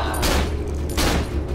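Two heavy bursts of gunfire from the horror video game Cry of Fear, loud, booming and close, each shot cracking out with a short decaying tail and no one speaking.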